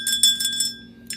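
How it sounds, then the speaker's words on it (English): A small hand bell rung several times in quick succession, bright clear chimes with a ringing tone, a brief pause, then one more jingle at the end. "I always ring this bell"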